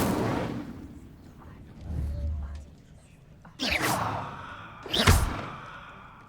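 Hogwarts Legacy spell effects, including an Incendio fire spell: a soft low rumble followed by two sharp whooshing bursts near the end, with faint voice-like sounds early on.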